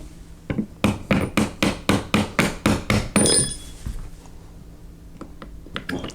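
A hammer taps a pin out of a Beretta 92FS pistol frame in about eight evenly spaced, sharp metallic strikes, followed by quieter handling clicks.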